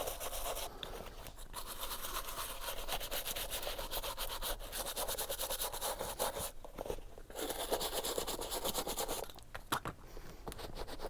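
A nylon brush scrubbing a very dirty Sperry boat shoe, a steady close scratchy rubbing in fast back-and-forth strokes with a few short pauses.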